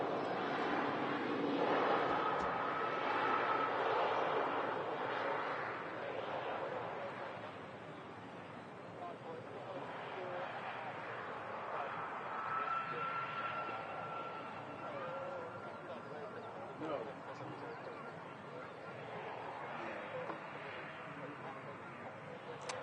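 An airliner lands and brakes at Manchester Airport, a broad, steady roar that swells early and then eases slightly across the landing roll, with someone talking over it throughout.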